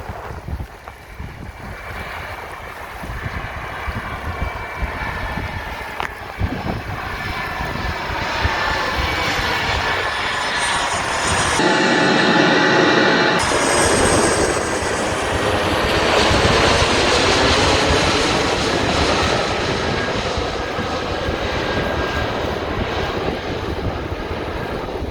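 A fixed-wing airplane roars low overhead at a Hawaii beach, its engine swelling loud and steady for a long pass, then fading, with wind buffeting the microphone throughout.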